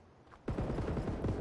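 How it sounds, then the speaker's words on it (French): Gunfire in the Marauders space pirate shooter game, a rapid burst of repeated shots starting abruptly after a quiet moment and continuing loud and dense to the end. "ça tire, ça tire, ça tire."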